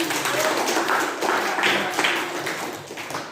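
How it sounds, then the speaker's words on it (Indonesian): Schoolchildren in an Indonesian classroom clap together during a fiqh lesson, a dense, steady patter of many hands that fills the room, with children's voices mixed in. "Tepuk tangan untuk semuanya."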